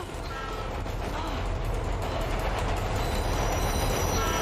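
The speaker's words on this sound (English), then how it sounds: "You can stop the train" A train rolls steadily past in a TV drama scene, a loud continuous rumble of wheels on rails with faint squealing, building slightly over a few seconds with no clear talk.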